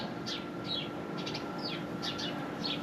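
Several short bird chirps sound outdoors, spaced through the clip, fairly faint above a steady broadband background hiss and low rumble, with no one talking.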